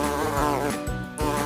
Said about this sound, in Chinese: 这是小蜜蜂的声音